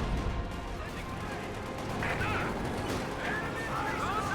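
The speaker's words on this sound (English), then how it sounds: "SU-76 gonna shoot a barrage at the pack gun." Company of Heroes 2 battle in which an SU-76 fires a barrage at an anti-tank gun, giving dense, continuous rumbling artillery and gunfire close up, with a commentator's voice running over the explosions.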